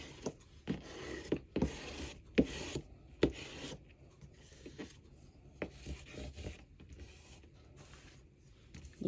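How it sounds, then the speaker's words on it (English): Rubbing strokes as a paper notepad cover is burnished for a junk journal, a series of close, uneven rasping swipes with short pauses between them. "let's burnish."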